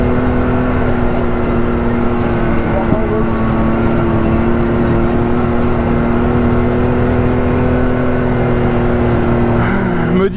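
Car engine droning steadily from inside the cabin during a mountain rally raid, a loud continuous hum with little change in pitch and a brief shift near the end.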